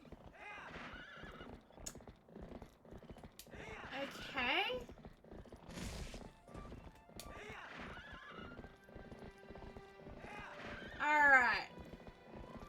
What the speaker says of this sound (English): I shouldn't say whatever, that's my poor horse.